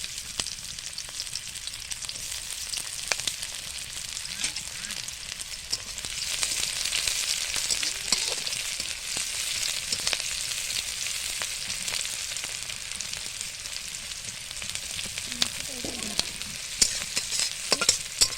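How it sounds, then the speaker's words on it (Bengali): Onions frying in hot oil in a wok, a dense, continuous close sizzle that swells louder partway through, with occasional clicks and scrapes of a stirring spoon. "তেলটা গরম হলে দিয়ে দেব কিছুটা পেঁয়াজ"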